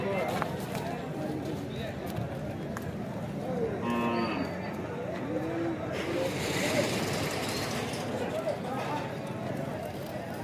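Bulls at a cattle market, with a low moo rising over a busy, noisy crowd, hooves and shuffling livestock under steady background chatter and voices throughout.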